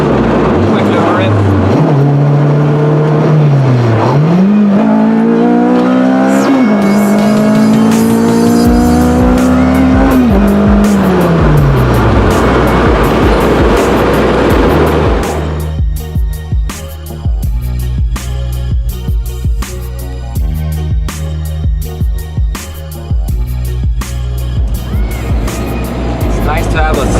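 A 2006 Honda Civic Si with a K24 swap and a 3-inch Rev9 catback exhaust revs loudly, its pitch climbing and falling through several quick rips before settling into a rumbling drive with clicks and rattles.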